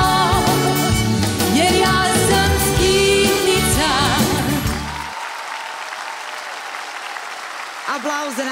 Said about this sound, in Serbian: Aplauz za naše takmičarke